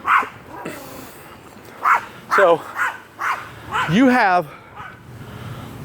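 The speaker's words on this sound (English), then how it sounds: "There's a stupid dog." A dog barks several times in short, sharp bursts, some yelping and whiny, close and fairly loud, with a person speaking briefly between the barks.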